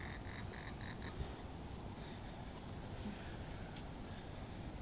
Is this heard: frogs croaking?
yes